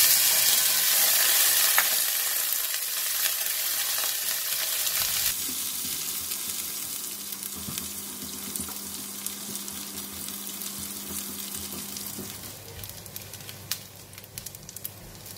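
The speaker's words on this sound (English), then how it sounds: "Before frying the anchovy," Steady crackling sizzle of rinsed anchovies frying in hot oil, loud and continuous, settling into a softer bubbling hiss partway through.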